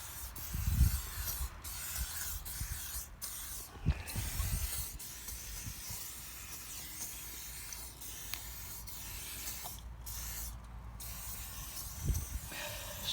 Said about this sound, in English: Spray the living life out of it.